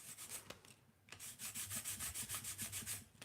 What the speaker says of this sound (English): I'm sanding the top of it because I feel like it.